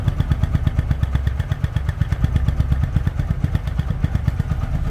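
A TVS Apache 4V ABS motorcycle idles close by, its engine beating in a fast, even, pulsing rhythm that stays steady and fairly loud throughout, with no one speaking.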